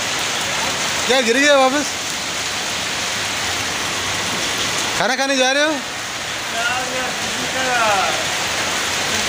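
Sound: heavy rain in Salalah, Oman

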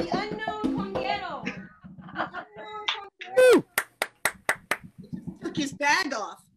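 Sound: audience applause for the conguero

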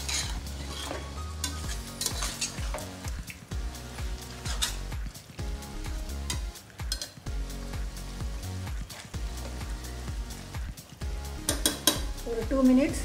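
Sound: stirring chicken with masala in a frying pan

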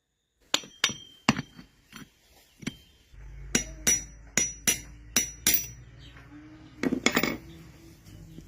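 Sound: tapping out old grinder bearing with a small metal rod

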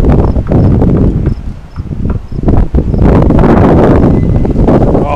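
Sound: strong wind during a thunderstorm

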